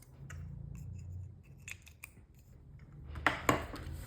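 Scissors snip a slit into a paint sample card. Several short, quiet cuts come at uneven intervals, with two sharper snips near the end and no talking.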